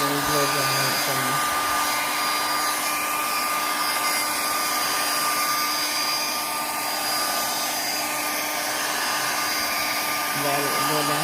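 Hair dryer blowing continuously on hair at close range, a loud steady whooshing roar with a constant whine, briefly shifting in pitch at the start and end.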